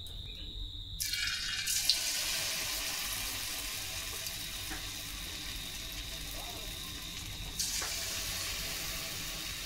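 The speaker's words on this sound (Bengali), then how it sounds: "তেলটা এখন গরম হয়ে গেছে, আমি পকোড়াগুলো দিয়ে দেব ভাজার জন্য।" Potato pakoras in hot oil in a wok hiss into a loud, steady sizzle that starts after a brief quiet moment and runs on evenly throughout.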